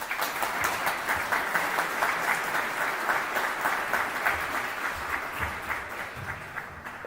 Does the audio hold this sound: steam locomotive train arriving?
no